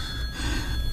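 A telephone bell ringing indoors, a short steady electronic ring tone lasting under a second, fairly close and alone.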